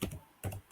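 Keys clatter on a computer keyboard as a password is typed, two short bursts of quick close clicks separated by a brief pause.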